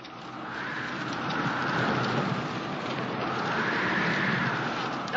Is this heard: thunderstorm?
yes